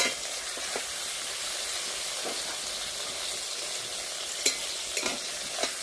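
Brinjal slices fry in an oil-filled pan with a steady, close sizzling hiss, broken by a few sharp pops and clicks near the end.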